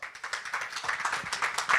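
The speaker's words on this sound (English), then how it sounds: "please give Mark one more round of applause" Audience applause at a Baltimore County Chamber of Commerce member breakfast, a fairly faint, steady patter of many hands clapping with a slight swell toward the end.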